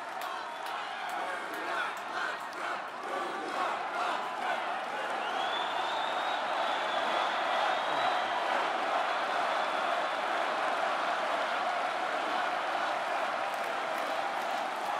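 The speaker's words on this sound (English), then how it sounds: "He came, just stood at the podium, and everybody started cheering again." Crowd at the Republican National Convention cheering for Trump in a full hall, a dense, steady roar of voices and scattered clapping that swells and holds throughout, with a faint whistle partway through.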